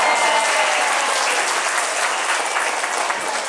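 Dense, steady applause from a crowd of visitors at a wildlife park animal show, loud and continuous throughout with no break.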